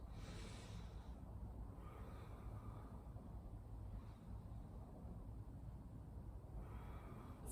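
Deep, slow yoga breaths, long airy inhales and exhales rising and falling over several seconds, close to the microphone over a steady low background hum.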